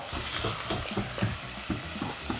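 Onion and garlic sautéing together in a pan for a creamy cauliflower soup, giving a steady broadband sizzle with faint stirring sounds throughout.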